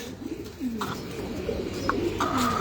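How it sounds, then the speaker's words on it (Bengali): Pigeons in a loft coo softly in short repeated calls against a low, steady background hum, close by and fairly quiet. "এটা আমার কবুতরের লফট"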